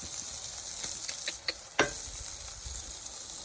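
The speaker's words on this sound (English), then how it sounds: "Then I'm going to crack my eggs." Eggs cracked into butter-greased rings in a hot pan sizzle steadily, with a brief sharp crackle as one hits the fat, then a low continuous frying hiss.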